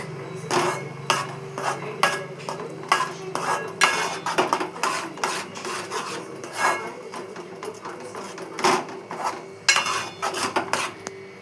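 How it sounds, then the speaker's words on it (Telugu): Powder is stirred into a pan while cooking, making repeated scraping, rubbing clinks of a utensil against the metal in a brisk, irregular rhythm, close and alone. "ప్యాన్కి పొడి బాగా కలుపుకోవాలి. ఇలా బాగా కలుపుతూనే ఉంది."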